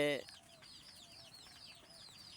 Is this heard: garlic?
no